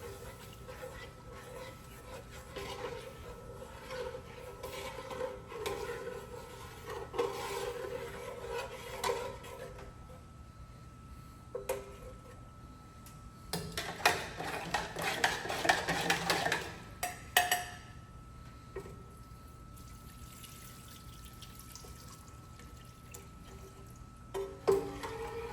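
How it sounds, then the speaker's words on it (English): Crawfish stock stirred in a pot, with a spoon scraping and clinking against the metal in uneven bursts, a louder stretch of stirring and splashing midway, over a low background hum. "and give it a stir"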